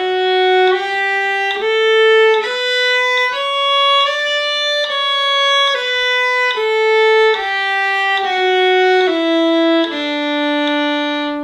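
A viola plays a slow, smooth legato scale at tempo 72, each sustained bowed note flowing into the next in a steady stepwise sequence, clear and close with no talking.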